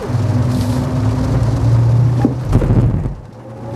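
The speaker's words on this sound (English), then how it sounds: "With this brilliant weather, I think it's time to try the launch control." A BMW i5 electric car launches under launch control, a loud rushing of motor whine, tyre and wind noise building steadily before easing off near the end.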